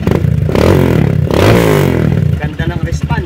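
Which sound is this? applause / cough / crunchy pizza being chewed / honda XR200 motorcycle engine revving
honda XR200 motorcycle engine revving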